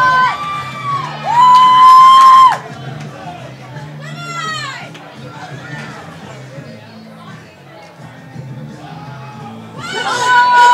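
A crowd at a pro powerlifting deadlift competition, Battle of the Bay II, yells and whoops in loud, overlapping bursts, with a few piercing shouts and cheering that swells again at the end.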